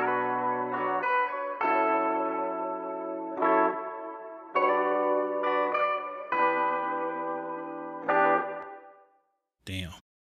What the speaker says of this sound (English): And then I added a reverb.